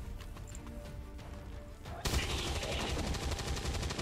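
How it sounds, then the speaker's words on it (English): Gunfire in the XCOM 2 War of the Chosen video game, a sudden close burst of rapid, rattling shots after a stretch of quiet ambient game sound. "I guess we're just going to fire away."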